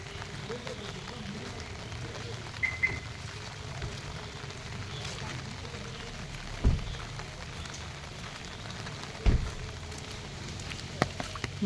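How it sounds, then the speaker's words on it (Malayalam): Rain falls at night outside a food spot with a parking area in Thirukochi. It gives a steady, fairly soft patter with occasional dull thumps, and faint voices sit beneath it. "ഞങ്ങൾ വന്നപ്പോൾ നല്ല മഴയായിരുന്നു. നല്ല മഴയാണ്."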